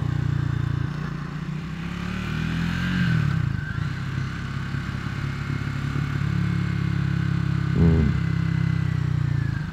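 A Triumph Scrambler 400x motorcycle engine drones steadily while riding, its low rumble shifting in pitch as the throttle changes, with a brief clattering burst near the end.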